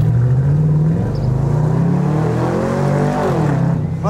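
A Chevrolet Camaro convertible pulls away, its engine revving up in a loud, steady drone that climbs in pitch and then drops back, close by throughout.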